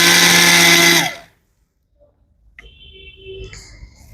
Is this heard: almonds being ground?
yes